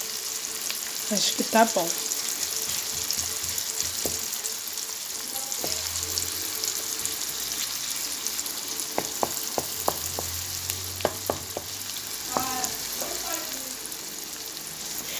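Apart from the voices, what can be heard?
pasta frying with garlic in margarine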